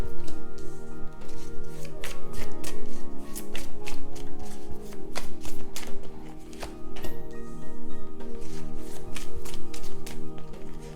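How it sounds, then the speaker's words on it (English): A deck of Angel Answers tarot cards being shuffled continuously, a close, busy riffling and flicking of card edges with rapid taps running through the whole stretch. "I'm going to pull all the cards out."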